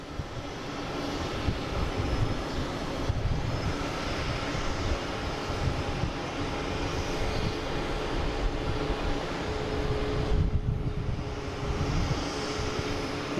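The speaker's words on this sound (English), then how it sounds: "United heading to Chicago, 737 MAX 9," At Boston Logan a United Boeing 737 MAX 9 bound for Chicago takes off, and its jet engines make a loud, continuous roar that stays strong for more than thirteen seconds without any speech.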